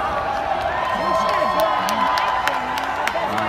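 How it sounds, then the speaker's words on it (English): A packed arena crowd at the Mandalay Bay Event Center in Las Vegas cheers for Shinsuke Nakamura during a WWE NXT match against Bobby Roode, a steady roar of voices with whoops and shouts rising throughout. "Crowd's going wild for Nakamura"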